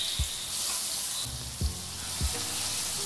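Ground onion-tomato spice paste hits hot oil already holding cumin, mustard seeds and asafoetida in a kadhai, setting off a steady sizzle with a few low thuds from stirring.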